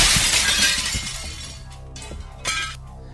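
Glass shatters loudly at the start, shards tinkling and scattering, followed by a second smaller crash and clatter.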